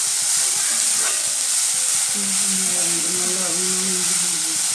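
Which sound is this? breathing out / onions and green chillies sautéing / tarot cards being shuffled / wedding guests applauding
onions and green chillies sautéing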